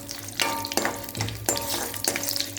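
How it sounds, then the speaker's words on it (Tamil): Mustard seeds and fenugreek sizzle in hot oil as a tempering for a buttermilk curry, a steady close crackle with repeated stirring scrapes. "கடுகு வெடிச்சிட்டு வெந்தயம் 2 போடணும்"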